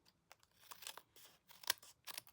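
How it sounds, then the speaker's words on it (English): Snips cut through card stock in a quiet series of short, crisp snipping and crinkling bursts, uneven in rhythm and close by. "I'm going to grab my snips and cut that away"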